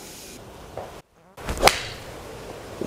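A brief sharp whoosh and crisp impact of a golf club striking a ball, close by, after a short swish and a moment of near silence.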